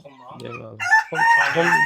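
A decorative bantam rooster on a chicken farm gives a single loud, close crow, rising into a drawn-out strained call after a short low clucking lead-in.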